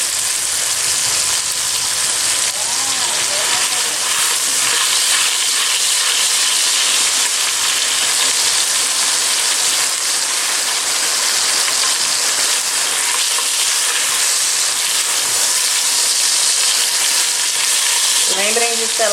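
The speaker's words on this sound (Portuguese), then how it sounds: "Lembrem de selar todos os lados da sua proteína, tá?" Pieces of oxtail sear in a hot pot, giving a loud, continuous, dense sizzle and crackle that stays steady throughout, close up with no talking.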